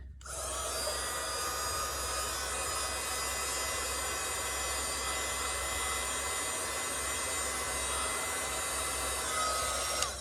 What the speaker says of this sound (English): Actually it's a heat gun for crafts, not for taking paint off the windows.